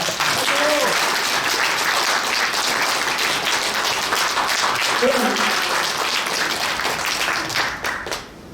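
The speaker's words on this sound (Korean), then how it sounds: "모두를 위해서 큰 박수 한번 부탁드립니다." Sustained audience applause at a New Year's greeting gathering of a civic association, dense steady clapping from a crowd, loud and close throughout, with faint voices underneath, tapering off near the end.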